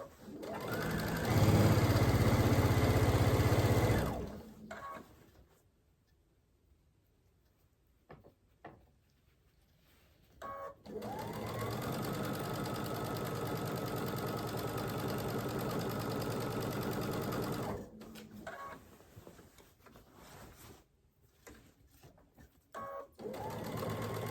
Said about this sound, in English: So I'm gonna stitch the rest of this down in the 1/4 inch seam.